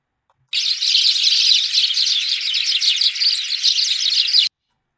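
A large, noisy colony of Spanish sparrows chatters and chirps continuously in a dense, bright chorus for about four seconds, with no other sounds, then stops abruptly.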